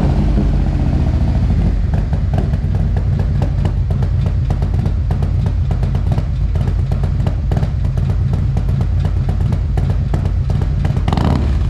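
A Harley CVO Road Glide with an S&S 128 big-bore kit and a Bassani header idles close and loud, a steady deep lumpy rumble that holds without pause throughout.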